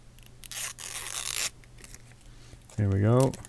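Protective film peels off a newly arrived item in short tearing rips close by, followed by a brief spoken voice.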